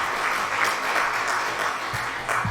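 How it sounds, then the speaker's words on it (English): Continuous applause from a crowd of Sims in The Sims 2, steady and fairly loud for the whole stretch, with no speech. "The applause."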